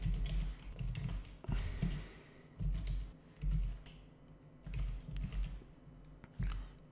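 Typing on a computer keyboard while entering database connection code for a PHP project, heard as bursts of close, soft key taps with short pauses between them, alone without talk.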